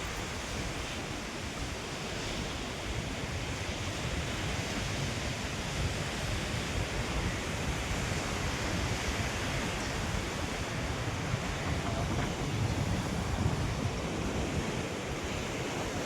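Sea waves roll onto the beach at Visakhapatnam in a steady, broadband wash of surf that holds at an even loudness throughout, with wind adding to the continuous roar and no voices.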